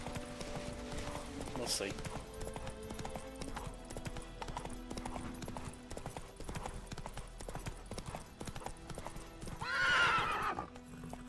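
Hooves of Roach, the horse in The Witcher 3, clop in a steady trot throughout, with a brief whinny near the end and a short spoken line early on.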